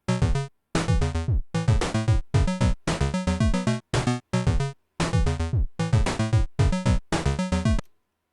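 A Pico-8 chiptune song plays its second bass and melody variation: bright, buzzy square-wave phrases in rhythmic bursts separated by short silent gaps, clean and loud with no talking.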